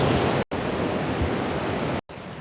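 Water thunders over a waterfall on the Mekong River in Laos as a dense, steady roar that fills the whole clip and cuts out for two brief moments.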